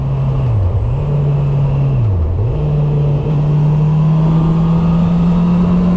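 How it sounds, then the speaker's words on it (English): Honda CB650R's 649cc 16-valve DOHC inline-four engine running steadily, a loud continuous drone with a couple of brief dips in pitch before settling into an even, sustained tone, no voices. "At the heart of this bike sits the 649cc 16-valve dual overhead cam inline 4 motor"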